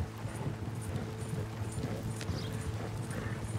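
Horses ridden in Red Dead Redemption 2 give a steady clip-clop of hooves at a brisk pace, faint under low game ambience, with a brief whinny-like tone.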